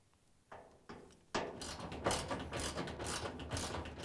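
A socket ratchet with an extension removes 3/8" screws from a dishwasher, a few isolated clicks, then rapid close ratcheting bursts and metallic rattling.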